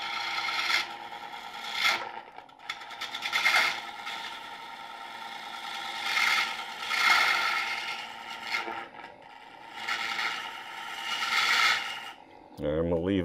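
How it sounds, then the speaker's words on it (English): Lathe gouge rubbing its bevel against a spinning segmented wooden bowl, producing repeated rasping, scraping swells as the tool sweeps in passes, ending with a brief tonal whir near the finish. "Just kind of rubbing the bevel."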